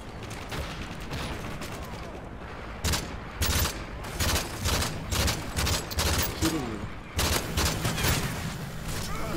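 Gunfire from a military shooter video game, a weapon fitted with an attachment, comes in repeated bursts of sharp shots, loud and close, over a steady background of game ambience.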